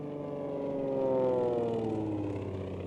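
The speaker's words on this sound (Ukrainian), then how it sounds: "Це літак." An airplane drones by, a smooth engine roar that swells to a peak midway and then eases off, heard on its own with no talking.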